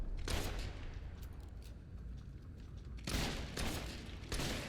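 Gunfire in the video game Fable III comes as bursts of rapid shots, one volley early and a heavier cluster near the end, fairly quiet overall against a dense, rumbling game soundscape.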